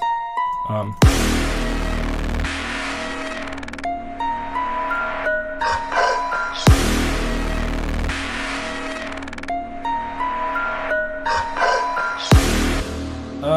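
A layered synth patch built in Morphine and lightly EQ'd with the low end cut plays two long, evolving swelling phrases, each opening with a deep hit and bright metallic tones, loud and alone.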